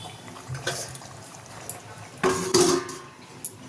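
A pot being covered with a lid while cooking fish: a couple of metallic clanks and a scraping clatter of metal on metal, close and brief, with quiet kitchen noise between.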